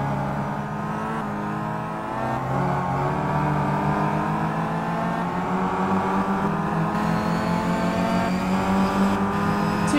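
Seat and Chevrolet touring cars racing side by side through turn one at Zandvoort in the Simraceway WTCC sim, engines droning steadily with shifting pitch, loud and continuous throughout without talk.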